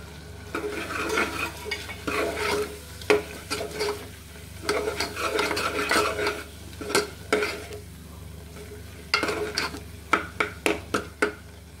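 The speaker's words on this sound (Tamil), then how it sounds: "இஞ்சி பூண்டு பேஸ்ட்டு நல்லா வதங்கணும். மசாலா தூள் போட்டுக்கலாம்." Ginger garlic paste sautéing in a pan with turmeric, chilli and coriander powder for a chickpea curry, a soft steady sizzle broken by repeated scraping stirs, the spoon clacking in quick bursts near the end.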